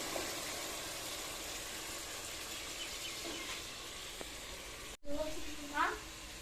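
Pumpkin and chicken salan sizzles steadily in a hot pot, a continuous hiss of frying that runs throughout, with a brief pause and some voices near the end.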